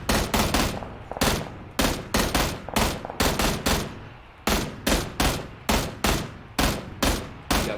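Rapid bursts of video game gunfire during an online match, rattling in quick volleys of several shots each with brief gaps between, loud and close with no talk over it.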